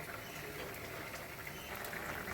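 Prawns fry in a pan, a steady, even hiss of sizzling oil that stays constant throughout without pauses.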